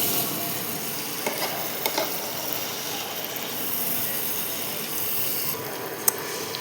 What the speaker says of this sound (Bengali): পেঁয়াজগুলো আমি ভালো করে লাল লাল করে ভেজে নেব।